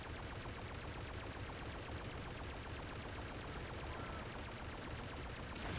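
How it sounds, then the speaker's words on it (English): A turret fires rapid, continuous automatic bursts in the Toy Soldiers: War Chest video game, a dense unbroken rattle of gunfire at steady loudness throughout. "my turret is shooting something interesting over there"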